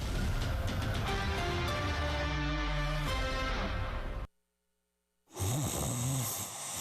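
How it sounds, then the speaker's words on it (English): Loud, rasping snoring with a rhythmic rumble, then a sudden second of silence before another throaty snore resumes. "problems that can keep you up at night, like snoring"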